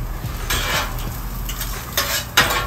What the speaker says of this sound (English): Next, we're gonna grill our onions for the fried rice